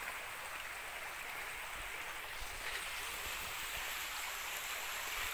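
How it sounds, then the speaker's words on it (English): A creek on a rural hike flows in a steady, faint broadband rush that stays even throughout with no voices. "I'm gonna pass here in the creek."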